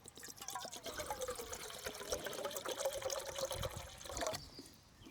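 Water poured into a coffee pot for off-grid tailgate brewing, a close, faint trickling pour with a rising gurgling tone that stops abruptly near the end.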